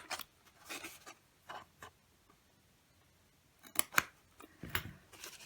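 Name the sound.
scissors cutting a line on a paper treat box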